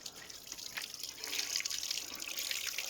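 Items being rinsed one at a time under a running kitchen tap, with a steady splashing stream and scattered drips, fairly close and alone without talk.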